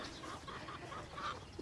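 Several loose chickens cluck softly in a goat-keeping farmyard, a faint run of short murmuring calls with a few louder clucks near the end.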